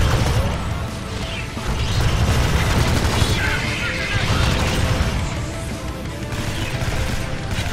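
Sustained automatic turret fire in the Alien Swarm shooter, Jacob's Rest cargo elevator level: a dense, continuous barrage of loud rapid shots and clattering impacts with no pause, mixed with surging game noise.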